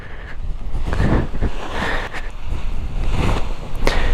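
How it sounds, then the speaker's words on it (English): Strong wind gusts across an open paragliding training field during ground handling, buffeting loudly in uneven surges with a few sharper blasts against the microphone. "Now it's quite windy"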